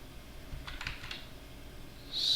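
Several quick keystrokes on a computer keyboard while a command is entered in the Helix text editor on Fedora Linux, a brief cluster of soft clicks that is close and fairly quiet, with no voice.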